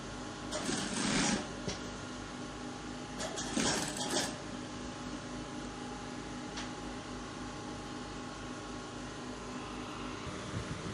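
Sewing machine top stitching a sleeve on a senator top, a low, quiet steady mechanical whir throughout with two brief brighter bursts of clatter near the start.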